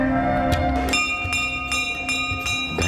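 Temple bells rung by devotees at the Tripura Sundari Mata shrine, several bright metallic strikes ringing out one after another over a dense, continuous crowd murmur with long overlapping resonance.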